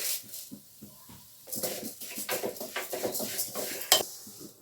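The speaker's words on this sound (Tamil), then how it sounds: "இதே நெய்யில் வந்து நம்ம வந்து இந்த சேமியாவை வந்து வறுத்து எடுத்துக்கலாம்" A spoon scrapes and clinks against a pan as vermicelli is stirred and toasted in ghee, with a faint sizzle beneath the busy clatter.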